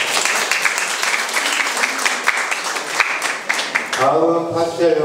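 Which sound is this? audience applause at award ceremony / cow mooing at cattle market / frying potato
audience applause at award ceremony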